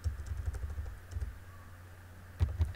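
Soft, quick clusters of key taps on a computer keyboard, close and fairly quiet, in short bursts separated by pauses over a low room hum.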